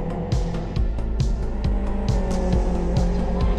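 Race cars in the Live For Speed racing game, engines revving and shifting repeatedly as several cars run close together into a braking zone, loud and continuous with rhythmic gear changes, under race commentary.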